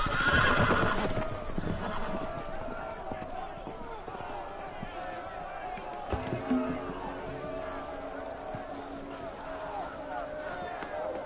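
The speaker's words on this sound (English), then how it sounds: "The horses! They're loose!" Horses whinny amid a dense, busy commotion of hoofbeats and crowd noise as loose horses run in a scene from Game of Thrones, loud and continuous throughout.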